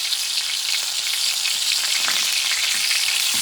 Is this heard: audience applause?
no